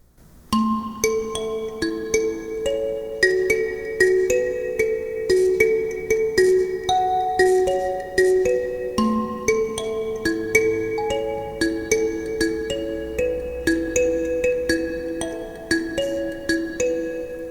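Mbira-style instrument plays a full song, a steady flow of bright plucked metallic tones in interlocking repeating patterns, close and even, with no voices.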